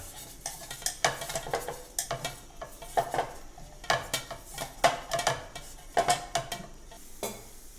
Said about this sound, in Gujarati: આપણે ગેસ ઉપર મૂકી દીધી છે કઢાઈ હવે આપણામાં ભાખરી શેકી લઈશું